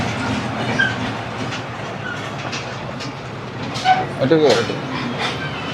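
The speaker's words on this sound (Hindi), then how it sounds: "तो सियालकोट के 2 नंबर प्लेटफॉर्म पे सियालकोट एक्सप्रेस अराइव हो रही है।" Sialkot Express pulling into platform 2 at Sialkot station, a steady low rumble of rolling stock with a few metallic squeals and clanks near the end, under faint station ambience and a voice talking.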